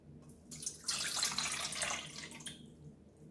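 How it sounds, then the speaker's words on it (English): Water is poured into a bowl for an Oobleck science experiment, a splashing, hissing stream that swells, holds for about two seconds and then tapers off, fairly close. "So the first thing we're going to do is pour the water into the bowl."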